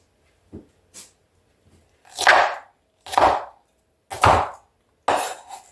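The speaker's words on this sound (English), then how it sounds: "I'm just going to cut it in fairly thin strips, maybe 1/4 inch" A knife cuts cabbage into thin strips for sauerkraut, giving four firm chopping strokes in a slow, even rhythm after a few lighter taps. The cutting is close and clear against a quiet room, with no one talking.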